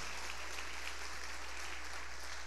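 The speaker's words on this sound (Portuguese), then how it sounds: "Pode aplaudir o Senhor" A church congregation applauds during a worship service, a dense, steady wash of many hands clapping at moderate distance that never pauses or swells.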